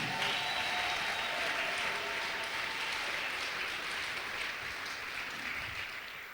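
A church congregation applauds steadily throughout, a dense, fairly loud wash of many hands clapping that tapers slightly toward the end, with no voices standing out.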